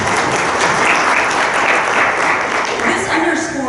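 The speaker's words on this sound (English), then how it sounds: "That deserves a round of applause, I think." Audience at a talk on environmental equity and sustainable learning environments applauds loudly, a continuous roar of clapping that holds steady, with some voices mixed in.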